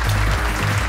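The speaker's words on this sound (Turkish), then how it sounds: "Alkışlayın." Applause in an action comedy scene, a steady wash of clapping that stays loud and continuous across the whole second with no other voices breaking through.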